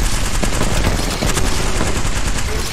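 Rapid gunfire rattles from the video game Apex Legends, loud and dense, with continuous bursts and no pause across the whole stretch.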